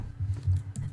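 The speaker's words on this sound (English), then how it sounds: "We need to type in a seed." A quick run of soft key presses on a computer keyboard while entering a Minecraft world seed, close and faint, with a few distinct taps in one second.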